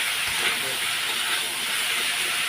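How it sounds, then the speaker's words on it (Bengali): Vegetables frying in a pan covered with a leaf lid, a steady close hiss and sizzle holding evenly through the whole stretch with no talk. "একটু নাড়াচাড়া দিয়ে ভেজে নিয়ে তারপরে দেবো মশলাগুলো"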